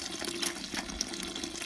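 Mulberry juice runs from a hydraulic jack press in a continuous watery gush and trickle, close and moderately loud, with light splashing peaks and no voices.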